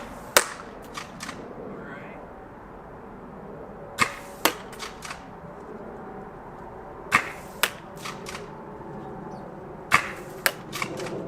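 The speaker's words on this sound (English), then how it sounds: "firing first will be the Adventure Force Ember Darts, the gray ones, in our Tomcat" A stock Tomcat foam dart blaster fires gray Adventure Force Ember Darts across 60 feet: sharp pops arrive in spaced clusters roughly every three seconds, each trailed by quick light clicks over faint room ambience.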